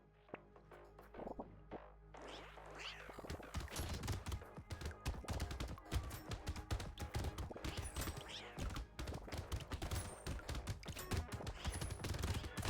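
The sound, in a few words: Catling Gun firing in the video game Brotato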